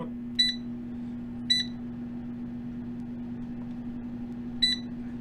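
An air fryer being set for temperature and timer gives three short, sharp electronic beeps, two close together and a third after a pause, over a steady low mechanical hum.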